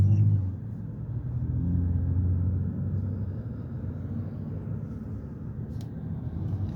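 Heavy road traffic on the way to Dubai airport Terminal 1, heard as a continuous low engine rumble from inside a moving vehicle, steady and droning with no voices.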